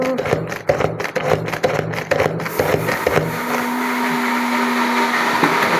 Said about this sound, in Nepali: प्याजलाई ग्रेट गर्दैछु